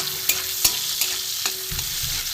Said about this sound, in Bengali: এটা রসুন আর এটা পেঁয়াজ একসাথে আমি এটাকে একটু ভেজে নেবো ভালো করে।